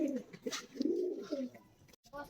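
Soft, low coos of old-breed Golden Teddy pigeons rolling in a few short phrases, close and fairly quiet, with a brief gap near the end.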